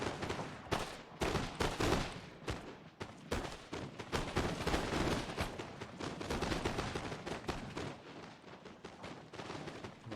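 Line and foot infantry in The Carlist Wars fire musket volleys nonstop, sharp cracks rattling in dense, overlapping bursts like a ragged fusillade.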